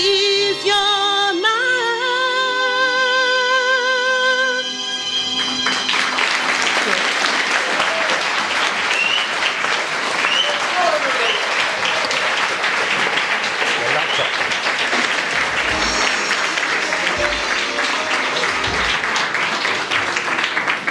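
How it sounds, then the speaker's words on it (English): Sustained crowd applause at a celebration-of-life gathering rises just after a sung ballad's final held notes fade, then continues loud and steady for the rest, with occasional cheers mixed in. "Let's keep that round of applause going."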